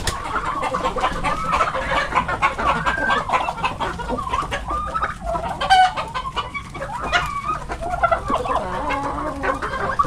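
Hens, some of them broody, cluck and chatter continuously up close in a farmyard flock, the overlapping calls busy and steady with no voices over them.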